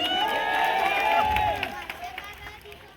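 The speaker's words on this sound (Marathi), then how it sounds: "टाळ्या." Rally crowd at a political gathering in Solapur cheering and clapping, a loud sustained roar with shouts that swells then gradually thins out, babble of voices mixed in.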